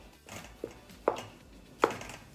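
A chopstick stabs into a baked poke cake three times at uneven intervals, each jab giving a soft, close, muffled tap against the pan, with quiet room tone between and no talking.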